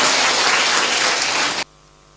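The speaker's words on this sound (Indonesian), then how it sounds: "Mari kita tepuk tangan dulu untuk Pak Rektor." An audience at a university public lecture applauds the rector, a dense burst of clapping for about a second and a half that cuts off abruptly into near silence.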